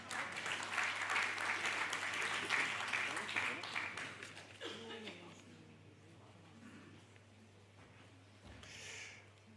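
A congress audience applauds in a large hall, steady clapping for about five seconds that fades into murmuring and soft talk.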